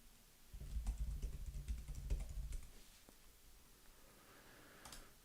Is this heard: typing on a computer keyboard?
yes